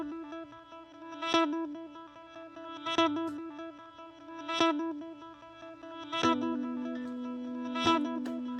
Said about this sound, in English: What is this effect? It's like a cool reverb.